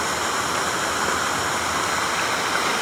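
The rushing water of Bolinao Falls in Pangasinan, Philippines makes a dense, constant roar with no breaks, close and loud, with no voices.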